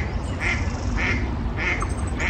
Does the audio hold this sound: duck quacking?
yes